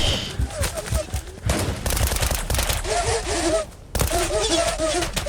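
Rapid automatic gunfire in the online game ONBx Legacy, dense bursts of shots rattling almost continuously with short breaks, mixed with game effects and players talking over it.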